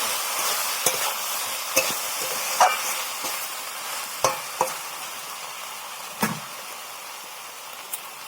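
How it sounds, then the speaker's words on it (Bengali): Prawns fry with chili powder in a wok, a steady close sizzle running throughout, broken by periodic scraping knocks as a spatula stirs them. "ওটাকে একসাথে নাড়িয়ে কষিয়ে নিয়ে"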